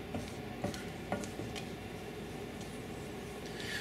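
A spoon scraping and clinking against a pot while ube biko, sticky rice cooked with purple yam, is stirred, giving soft irregular knocks over a faint bubbling hiss, quiet and close.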